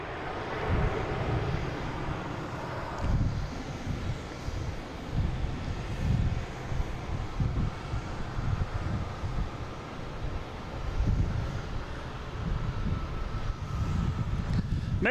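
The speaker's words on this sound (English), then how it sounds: "That's a Delta coming in from Rome, flight 113." A Delta airliner inbound from Rome on flight 113 coming in to land, a distant low engine roar mixed with wind buffeting the microphone.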